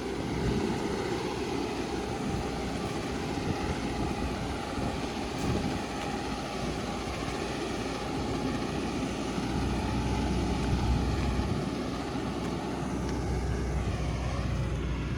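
A tractor engine drones on without pause at a moderate distance, a low continuous rumble mixed with light wind noise.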